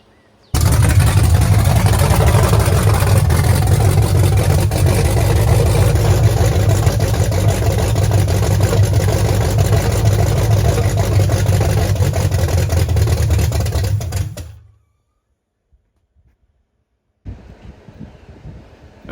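An old truck engine, running again after repair, idles with a steady loud rumble for about fourteen seconds before cutting off, followed by a short silence and faint rustling.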